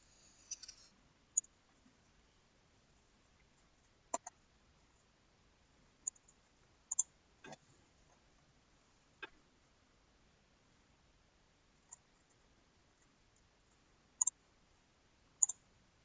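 Sharp, isolated computer mouse clicks on a save button, a dozen or so scattered irregularly across a quiet background, some coming in quick pairs.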